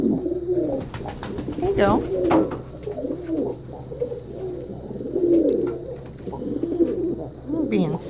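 Birds, likely pigeons or doves, coo repeatedly at close range in soft, rolling phrases, while a person speaks quietly over them now and then.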